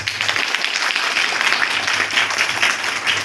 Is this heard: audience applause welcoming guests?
yes